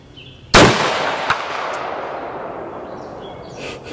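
A single sharp rifle shot fired through a new Ballistic Advantage barrel, followed a moment later by a faint metallic ring from a distant steel target plate, then a long fading echo across the range.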